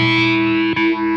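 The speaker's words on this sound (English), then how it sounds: "And this is a flanger." Electric guitar through a flanger effect on a VOX StompLab IG modeling processor, a sustained distorted chord with a sweeping, jet-like comb-filter whoosh moving through it, loud and close with no talk.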